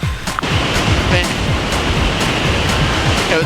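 A waterfall in Iceland roars loud and close in a dense, continuous rush of falling water with no pauses.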